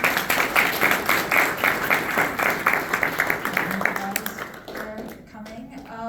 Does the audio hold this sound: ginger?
no